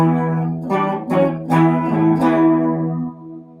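A Schecter electric guitar strums several chords through reverb, each chord ringing out with a long, washy decay that fades at the end.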